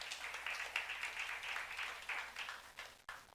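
Church congregation clapping during a youth service sermon, a brief, moderately faint patter of applause that cuts off abruptly near the end.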